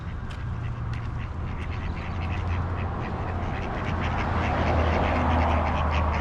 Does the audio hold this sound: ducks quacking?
yes